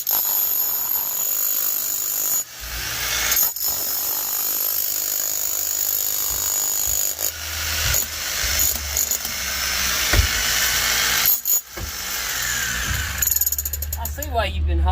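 A power drill breaks hard ground in a crawl space while digging for a French drain: a loud, continuous hammering rattle that stops briefly a few times before starting again.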